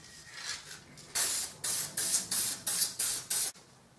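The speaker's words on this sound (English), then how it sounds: "So I'm using thin spray because it's just quicker and easier." Short bursts of hissing spray from an aerosol can, about seven quick blasts in a row after a couple of softer ones, close up with no talking.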